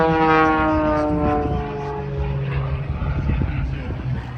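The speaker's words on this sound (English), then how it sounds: "You see the airplane rotating around the prop as he hangs on the prop." A Super Chipmunk propeller airplane doing a torque roll at an air show, its engine droning loudly with a wavering, shifting pitch as the plane hangs on its prop, under a commentator's voice.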